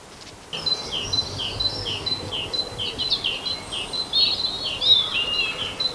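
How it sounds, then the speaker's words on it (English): Spring birdsong in the morning: a bird repeats bright, high chirping phrases close by over a soft background hum, the calls growing busier and louder toward the end. "is the birds giving it rock all in the morning"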